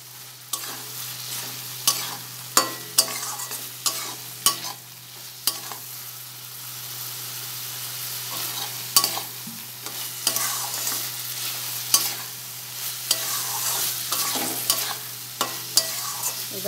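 A spatula stirs fried potatoes and okra in a pan, with repeated sharp scraping strokes at an uneven rhythm over a soft, continuous sizzle and a low steady hum.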